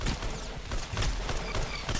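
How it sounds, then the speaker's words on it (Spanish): Repeated railgun shots from a Roblox Arsenal match ring out as a rapid series of loud, sharp cracks at close range, with no speech over them. "Tengo la Railgun que mata de un tiro"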